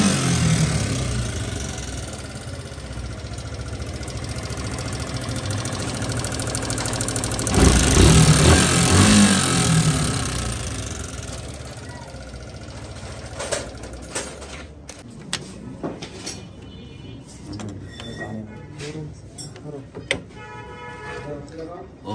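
A Suzuki Gixxer Fi ABS motorcycle engine runs steadily at close range with a rough, mechanical tone, swelling louder briefly before settling back, with people talking over it.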